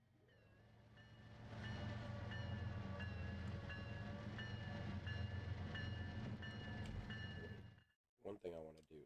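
Train riding along the rails in the simulator Trainz 2022, a steady, loud rumble with rhythmic clatter and metallic squeals running for several seconds before cutting out into a brief voice.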